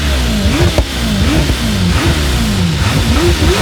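Twin-turbo Lamborghini Temerario engine revs repeatedly, its pitch climbing and dropping in several quick rising sweeps, loud and close with no talking.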